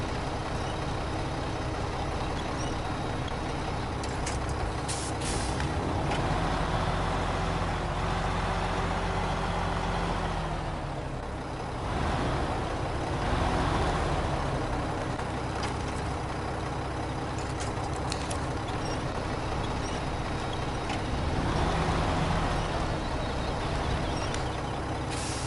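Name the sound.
truck moving a generator trailer in SnowRunner video game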